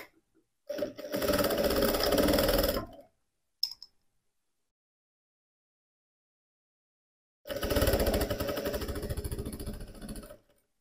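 A sewing machine stitches the two halves of a teddy bear backpack together, running in two loud, steady bursts of a few seconds each with a long silent pause between and a brief click in the gap.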